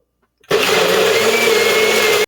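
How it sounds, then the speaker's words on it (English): NutriBullet blender whirring loudly as it blends a drink, starting abruptly and running at a steady, unbroken high-speed drone for about two seconds before cutting off, with no talk. "now we're going to put the drink in the blender and watch it go."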